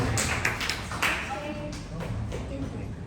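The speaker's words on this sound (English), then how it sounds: "Round of applause for her." A brief round of applause from an audience at a community talk on biosecurity, light scattered claps that fade quickly while people speak over them.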